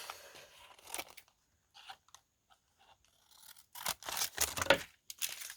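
Scissors trim paper pieces for a window envelope collage, making faint, close crisp snips and crunches in scattered bursts with quiet gaps between them.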